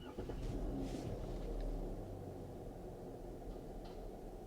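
A Gen 2 Pentastar V6 cranks and runs rough with one whole cylinder bank misfiring, a steady close low rumble of engine noise with no talking.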